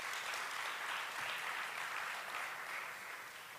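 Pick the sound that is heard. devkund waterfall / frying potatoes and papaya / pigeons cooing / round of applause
round of applause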